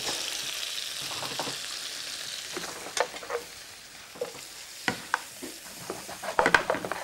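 Veal fries in a pan with onion rings, a soft sizzle under a run of sharp clinks and scrapes from a utensil that grow busier toward the end.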